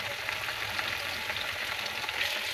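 Ginger, garlic and onion pastes frying with onions in a pan, a steady close hiss and sizzle running throughout with faint stirring.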